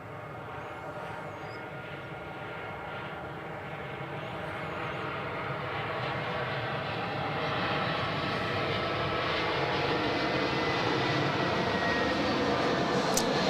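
Airbus A320 in old Jetstar livery at Adelaide Airport, its engine roar a broad steady rumble that swells slowly louder over the stretch, carried alone without any voices.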